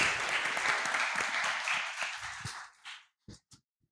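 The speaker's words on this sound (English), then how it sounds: "Round of applause." Audience applause at a youth conference talk, dense clapping that carries steadily for a few seconds, then thins and dies out into scattered final claps and near silence.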